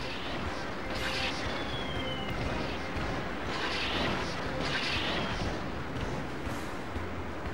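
Cannons fire in the video game Spyro: A Hero's Tail, sounding as several dull, rumbling booms over a dense, constant game soundscape, while someone talks in German under the noise.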